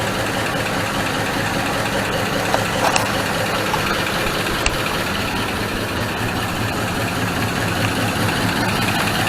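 A 1973 Ford Torino Sport V8 idles steadily after its first start, a continuous low rumble running loud and close with no talk over it.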